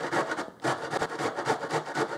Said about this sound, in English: You're gonna take your head of cauliflower and you're just gonna grate away.